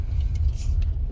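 A 2008 Honda Accord V6 drives down a street, heard from inside as a steady low rumble of engine and road noise for about a second, with faint higher hiss above.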